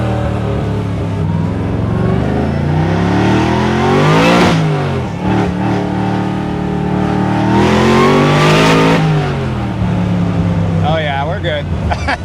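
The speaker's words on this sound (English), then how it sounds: "the car is moving normally right now, so let's get it out of the shop." A 1967 Camaro restomod engine drones and revs up twice in long rising sweeps while driving out of a shop, loud and close, with a brief lull between.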